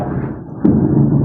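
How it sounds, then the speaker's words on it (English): Thunder rolls outside, a low muffled rumble that swells with a sudden louder crack partway through, then keeps grumbling steadily. "That was the thunder outside"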